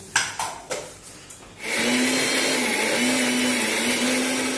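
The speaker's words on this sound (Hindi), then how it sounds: "इसमें मैं अदरक लहसुन छीन ली हूँ और हरी मिर्च भी डाल रही हूँ जिसका मैं पेस्ट बना लेती हूँ" After a few brief knocks, a kitchen grinder starts and runs loudly and steadily, blending ginger, garlic and green chillies into paste for a Hyderabadi biryani, with no voices.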